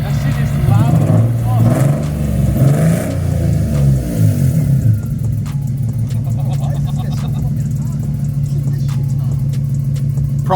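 An Infiniti G35 with aftermarket cams and a misfire revs loudly nearby, its engine rising and falling before settling into a steady, lumpy drone, with voices talking over it.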